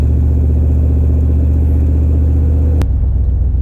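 A Camaro V8 with a FiTech fuel injection system idles steadily and loud up close, a deep rumble that drops to a lower, quieter idle near the end after the throttle stumble fix.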